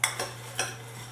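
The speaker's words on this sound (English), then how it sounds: "Okay, we're just going to stir it all up." A spoon stirring snack mix in a bowl, making three quick rattling scrapes and clinks up close, fading into quiet with a low hum beneath.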